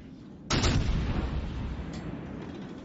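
A heavy naval gun salvo booms once in the World of Warships Legends game, a loud deep blast that rolls on into a long rumbling decay.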